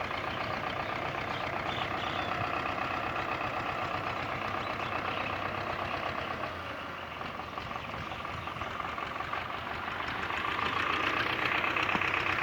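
A Belarus 510 tractor engine runs steadily while puddling a field, a continuous close diesel drone with a knocking texture that swells slightly toward the end.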